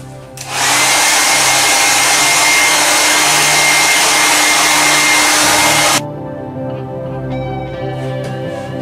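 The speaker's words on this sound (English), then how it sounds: "I'm going to run a hairdryer over the top of that, speed up the drying process" A hair dryer roars loudly and steadily for several seconds, drying paint on a concrete leaf, then cuts off abruptly, leaving quieter background tones.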